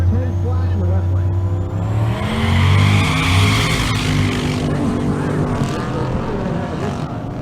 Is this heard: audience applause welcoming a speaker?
no